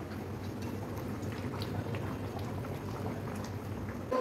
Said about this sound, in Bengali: হ্যাঁ, মাংস হচ্ছে, কড়াইয়ে ভাত দেখো, দেখো গরম গরম ভাত।